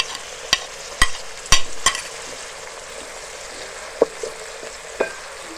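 Chopped tomatoes hitting hot masala in a pan for dhaba-style daal chana, with a few sharp clatters of a spoon stirring at the start, then quieter sizzling and two brief scraping knocks.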